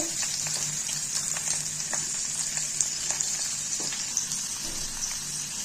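Paneer frying in oil in a pan on a gas stove, a steady close hiss with faint crackles and soft spatters running throughout, no voices.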